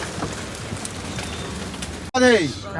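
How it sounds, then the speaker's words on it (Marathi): Steady rain patters in a soft, even hiss at the Somnath Jyotirlinga temple in Gujarat, then a voice speaks briefly near the end. "आणि पाऊस पडतोय"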